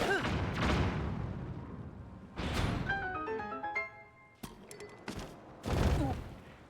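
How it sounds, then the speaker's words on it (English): Bomb explosions in Zelda: Tears of the Kingdom, several muffled booms spaced a second or two apart with crackling debris and short musical chimes between them. "So we're going to use a bomb here."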